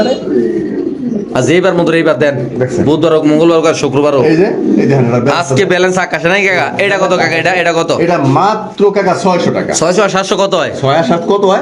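King pigeons cooing repeatedly close by at a pigeon farm, their low throaty calls mixed with people talking throughout.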